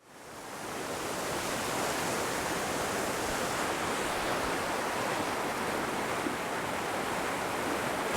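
The Dan spring, a source of the Jordan River fed by snowmelt from Mount Hermon, rushes steadily and loudly, a dense, unbroken wash of flowing water that swells in at the start and holds constant.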